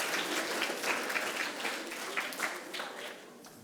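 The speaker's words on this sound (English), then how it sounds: "I think a round of applause, please." Schoolchildren at a junior school give a lively round of applause, dense clapping sustained steadily for a few seconds before tapering slightly, with faint voices mixed in.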